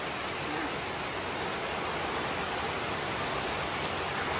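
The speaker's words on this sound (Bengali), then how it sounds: "এই যে বৃষ্টি শুরু হয়েছে," Rain falls at night as a breeze picks up, a dense, even hiss of drops on surfaces holding steady throughout with no voices.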